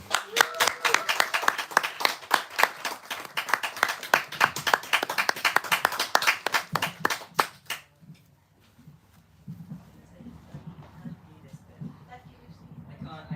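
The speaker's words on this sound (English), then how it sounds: "A huge round of applause for Kylo." A small open-mic crowd claps for a poet, brisk individual hand claps clearly audible for several seconds before stopping abruptly, followed by quiet room noise and a voice starting to talk.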